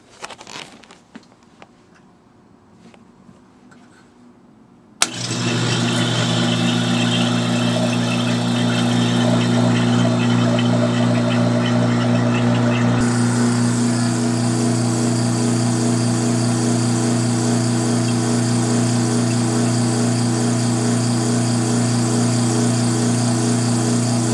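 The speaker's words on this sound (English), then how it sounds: "we'll turn this on and we'll let it draw at 29 pounds of mercury for 5 minutes" A vacuum machine degassing a rubber jewelry mold mixture at 29 inches of mercury switches on after a quiet start, then runs with a loud, steady motor drone and pump hum that continues unbroken to the end.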